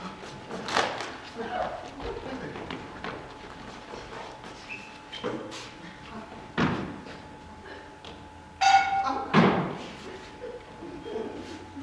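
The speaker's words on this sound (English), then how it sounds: "I hit him with the frying pan." A metal frying pan strikes a person, giving a sharp ringing clang followed at once by a heavy thud, heard amid scattered knocks and bumps in a room with people talking quietly.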